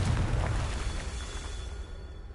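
Confringo blasting spell explosion in Hogwarts Legacy, a loud booming burst with rumbling low end that decays over about two seconds.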